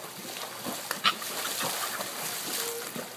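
Two dogs swim and paddle through water, with soft continuous splashing and sloshing at close to moderate distance, a sharper splash near the middle, and light background sounds.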